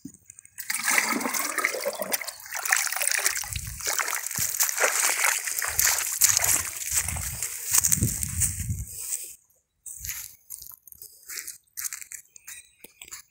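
Water of the Piranhas-Açu river, clear and running past brush, splashing and sloshing loudly up close for several seconds before dropping to fainter, broken trickling near the end.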